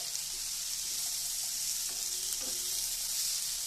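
Flat beans with turmeric fry in a pan, a steady close sizzle with a couple of soft stirring scrapes partway through.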